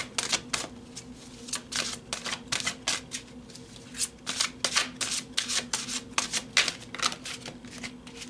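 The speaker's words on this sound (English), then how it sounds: "So let's pull some more cards and go deeper." Oracle cards being shuffled by hand, giving a steady run of crisp riffling and rubbing bursts close to the listener with no voice over them.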